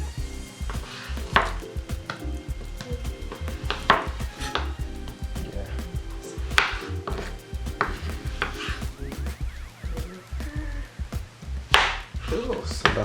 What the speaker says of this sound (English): And then you want to just chop. You want to create like these sort of diagonal,